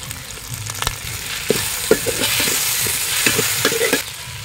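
Curry leaves hiss and spit as they hit hot oil for a turkey gravy, a loud steady sizzle with sharp crackling pops scattered throughout, no voices.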